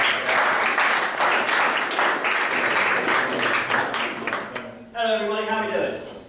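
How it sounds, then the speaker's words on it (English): Workshop audience applauding at a 2018 business seminar, a sustained patter of many hands clapping that thins and fades out near the end, with a voice and murmur mixed in as it dies down. "Let's give them a round of applause."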